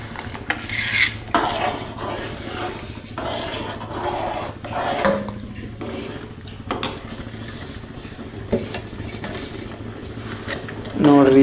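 Semolina being poured into boiling water in a pot and stirred for upma, giving intermittent scraping, rasping and clinking of a spoon against metal, with a short louder clatter at the end.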